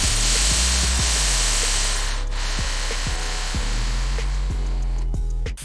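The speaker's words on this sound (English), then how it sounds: "Drill holes every 4 inches around the bucket." A power drill whines steadily and loudly, its pitch rising and falling with several short bursts and changes in load as it drills holes in a plastic bucket.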